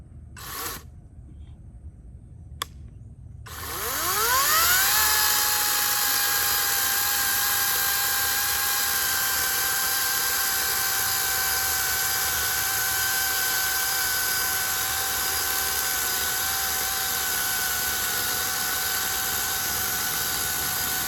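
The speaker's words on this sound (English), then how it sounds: "First time using a chainsaw." After a couple of sharp clicks, a chainsaw motor spins up and holds a loud, steady, high-pitched whine close by while cutting wood in a yard.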